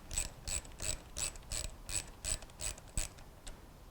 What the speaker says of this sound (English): Release the spring tension on the VVT tool by turning the compressor screw counterclockwise.